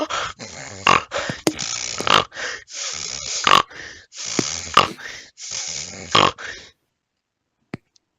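A human voice imitates loud, wheezing, pig-like snorting breathing, with repeated rough grunting snorts in irregular bursts that stop abruptly, followed by near silence.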